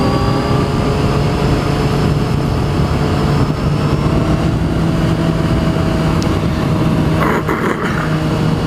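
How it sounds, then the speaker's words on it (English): A motorcycle engine runs steadily, a continuous loud mechanical drone with a constant tone throughout, heard alone without talk. "The bike's running great today."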